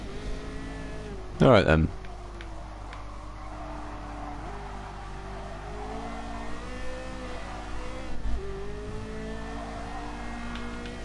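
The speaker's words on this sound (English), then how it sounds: "this car just dancing around the circuit is so skiddy" Lightweight race car in Gran Turismo Sport drifting around a circuit at full throttle, a steady engine drone with shifting pitch and brief skid bursts, heard under a commentator's voice.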